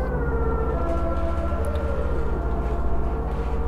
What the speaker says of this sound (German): Da kommt ein Rettungswagen.